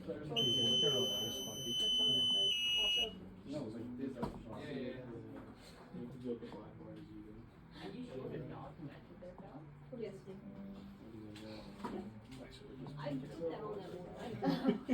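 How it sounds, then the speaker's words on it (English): A loud, piercing electronic alarm buzzer blares steadily for about three seconds, then stops, followed by people chatting and laughing. "the next couple of tests do use the buzzer sound, which can be pretty loud and kind of piercing"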